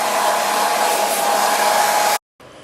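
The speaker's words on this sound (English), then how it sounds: "We want puppies to become accustomed to the dryer" A hair dryer blowing steadily on a puppy with a constant whooshing hum, close and loud, cut off abruptly near the end.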